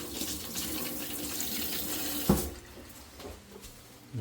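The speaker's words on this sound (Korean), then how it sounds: "여기 싱크대. 수압 괜찮게 나오잖아요. 수압 세게 잘 나와요." Strong stream of water pouring from a kitchen sink faucet at a farm hut, fed by gravity from filtered creek water, loud and steady at first, then dropping to a lighter flow after a sharp change.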